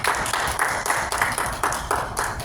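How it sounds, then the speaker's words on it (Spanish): A church congregation claps along in a steady, even rhythm during a morning worship service, the close, bright hand claps repeating about every quarter second with no talking over them. "Regálale un aplauso al Señor esta mañana."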